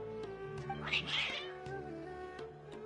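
Agitated cats meow insistently in Genshin Impact, a rising cluster of fairly quiet calls over a steady, tonal game background.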